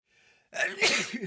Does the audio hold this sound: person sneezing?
yes